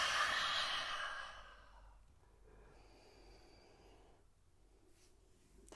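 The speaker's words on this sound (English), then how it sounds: "Open mouth, exhale." Someone breathes out through an open mouth during a yoga session, in one long, breathy exhale that starts fairly loud and fades into quiet room tone.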